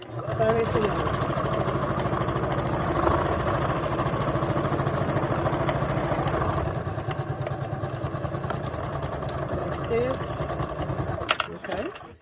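A sewing machine stitching a 5/8 seam allowance on a skirt side seam with a pocket, a steady close whirring run with a brief back stitch, under occasional talk.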